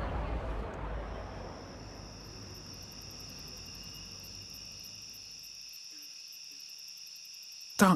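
Night insects in Singapore, crickets giving a steady high-pitched trilling chirp that continues throughout, with a low rumble fading out early and a brief sharp noise at the very end.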